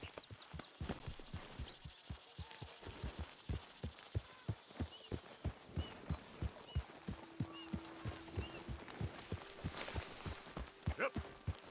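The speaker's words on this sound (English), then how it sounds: "Now get on your horse and just ride in the opposite direction." Horse hooves gallop in Red Dead Redemption 2, a steady rhythmic clip-clop of hoofbeats running the full length, close and clear, with faint background game ambience.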